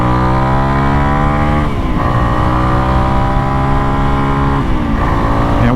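A Honda CRF 300L motorcycle with a MotoX exhaust, airbox mod and Stage 1 ECU tune accelerating hard, its loud engine note rising through the gears with brief dips at each shift.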